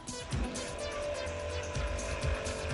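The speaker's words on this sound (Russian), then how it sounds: "Здесь, в центре исследований и развития, проходит испытание нового автомобиля." A prototype compressed-air car engine, the 44th version, runs on test at a research and development centre, giving a steady mechanical drone with low rumbling pulses throughout, with no talking.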